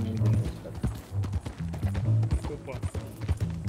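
Pony hooves clip-clop in an irregular, fairly close rhythm in the game Red Dead Online, mixed with other game sounds while voices talk over them.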